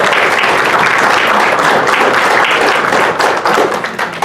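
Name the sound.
audience applause welcoming a panel speaker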